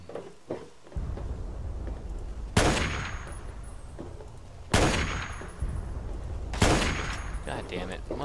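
Loud blasts and bursts of gunfire from Fallout 3 erupt in three heavy booming impacts spaced a couple of seconds apart, each trailing off into a sustained rumbling roar.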